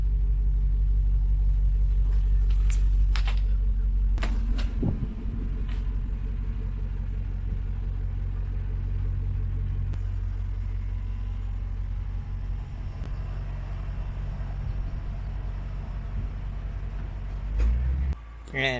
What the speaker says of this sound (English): Nothing beats a 2UR GSE cold start.